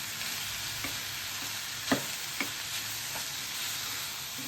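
Jaggery syrup sizzles steadily in a pan on full flame, with a few soft scraping strokes as it is stirred, close and moderately quiet, with no voices.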